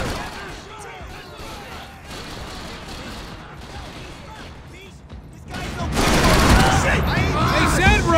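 Gunfire in the Max Payne 3 video game: bursts of rapid shots, sparse and moderate at first, then a dense, loud barrage of overlapping fire near the end, with a voice shouting over it.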